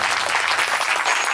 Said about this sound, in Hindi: एक बार ताली